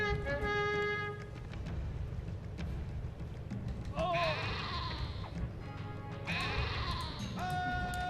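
Sheep in the Caesar 3 city-builder bleat in several wavering, nasal calls, with a couple of overlapping bleats near the middle and another toward the end, heard over a steady low background.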